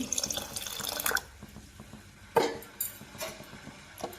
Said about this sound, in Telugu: మనకి ఎంతైతే సరిపోతుందో అంత చూసుకుని చింతపండు రసం పోద్దామండి